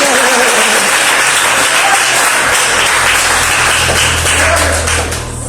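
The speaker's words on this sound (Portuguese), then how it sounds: "Exalta o Senhor com palmas" A church congregation claps in praise during an evangelical service, with loud, continuous clapping and a low sustained background tone, fading slightly at the close.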